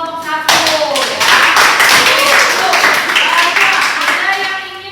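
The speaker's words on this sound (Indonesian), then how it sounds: "beri tepuk tangan dulu buat kelompok 1 ya." A classroom of schoolchildren at an elementary school in Palembang gives a group a round of applause, loud and close. The rapid, crowded claps start abruptly and carry on for several seconds with voices mixed in.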